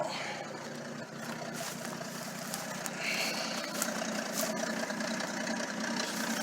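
An old Ford tug engine idles steadily with a misfire, a rough, uneven chug and faint ticking, running alone at moderate volume.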